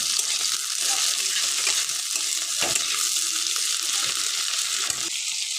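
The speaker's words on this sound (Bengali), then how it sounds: "টমেটো কুচির সাথে পেঁয়াজটাকে আমি ভালো করে ভেজে নেব।" Chopped tomato and onion fry in a pan with a steady, fairly loud hiss and sizzle, punctuated by a few dull spatula scrapes, heard up close with no voices.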